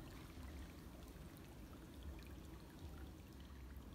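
Water gushing and trickling from a burst water main by a house, a steady continuous pour and splash throughout with no break.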